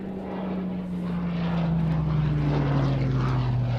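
A Hawker Hurricane propeller fighter flies past at an air display, its engine and airscrew making a loud, steady droning roar that holds throughout with a slowly falling tone.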